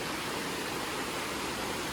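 Along a forest trek near Kurinjal in Chikkamagaluru, a clear river keeps up a soft, even rush of flowing water, steady and unbroken, with no talk.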